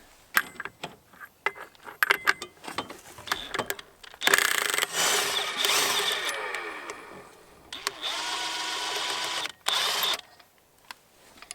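A deep 7/8 socket working a nut loose on a Yamaha Grizzly 450 ATV during drive belt replacement: scattered metallic clicks and taps, then sustained ratcheting and whirring bursts, close and fairly loud, with no talk.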